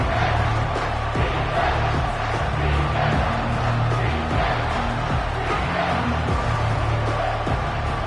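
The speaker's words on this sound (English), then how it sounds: "This crowd is tearing the lid off this place." A stadium crowd roars and cheers at a Texas at Notre Dame college football game, a dense, loud, sustained wall of noise with swelling shouts throughout, and speech faintly mixed in.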